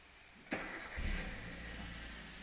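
A car engine cranks on its starter in a sudden short burst followed by a brief rough surge, then a low steady hum; faint and close, with no voices.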